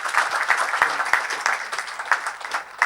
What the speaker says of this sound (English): let's give a big round of applause to the panel members here.